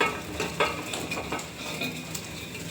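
Rice dumplings (dudhori) tumble into a pan over a medium gas flame and are stirred: a run of close scrapes, light clinks and soft rustling in uneven bursts, with no voices.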